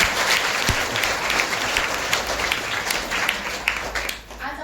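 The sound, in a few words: loud applause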